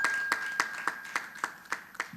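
Slow, evenly spaced hand claps on a television quiz show, about nine in a row, from a small group or a single person, with faint room hiss underneath.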